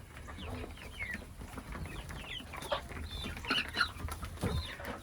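Backyard chickens clucking softly at close range, a scattered run of short clucks and murmurs over a low background rumble, with a few brief rustles like wing flaps.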